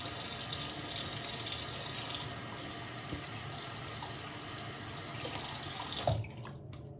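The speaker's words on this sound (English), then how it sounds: "Cold water." Cold water runs from a tap into a sink in a steady, unbroken rush for about six seconds before stopping, leaving a faint drip and a few small knocks.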